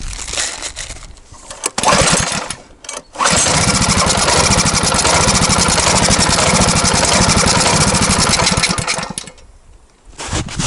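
A motorized towing sled engine that will not hold idle cranks with short bursts, then catches and runs at a loud, rough, steady idle close by before fading as it dies, and another start attempt follows.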